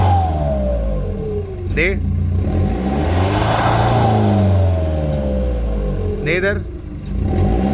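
A modified Tata Nexon's engine revs up and down in repeated swells, with the exhaust note rising and falling loudly close by while voices talk over it.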